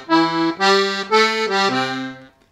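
An accordion plays a left-hand blues bass pattern: a walking sequence of sustained, reedy bass notes and chords that step through several pitches in a steady rhythm, clear and close, with no talk.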